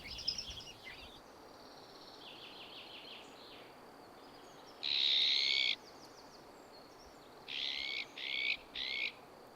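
A barn owl's harsh, hissing screeches, a long one in the middle followed by three shorter bursts in quick succession, ring out over a steady outdoor background hiss, with fainter calls near the start.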